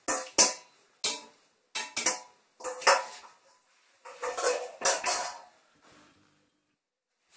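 Several sharp metallic clatters and knocks as tripe is dropped back into a rinsed pot, close by, in irregular bursts with short pauses between them.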